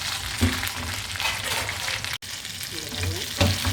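Mutton neck chops fry in a pan with a dense, steady sizzle close by, broken by a moment of silence midway and a few soft knocks.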